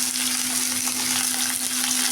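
Shallots, garlic and curry leaves sizzle and crackle in a pan of hot oil for a village-style cowpea curry, a steady close frying hiss with no talk.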